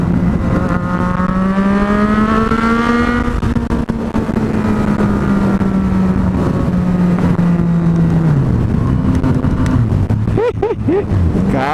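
Yamaha MT-09 motorcycle accelerates hard on the road, its engine pitch climbing and shifting through gears in a loud, steady roar with wind noise, ending in a quick rev drop.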